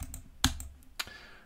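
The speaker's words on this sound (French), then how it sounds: "avec un clavier qui marche pas bien" Keystrokes on a computer keyboard with a faulty, poorly working key action: a few separate sharp clicks spaced irregularly, fairly close and quiet, with no talking.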